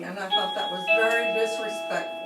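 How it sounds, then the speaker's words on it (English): A home doorbell chimes with sustained ringing tones in the background while someone speaks over it on a remote council meeting call. "That was the doorbell."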